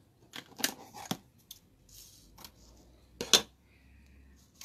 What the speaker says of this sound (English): So I'm going to take a little bit of tape